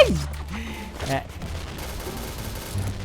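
Gunshots from the Point Blank video game, with a Thai-server sniper rifle firing a quick burst of sharp blasts early on that then fade into a rumbling game backdrop.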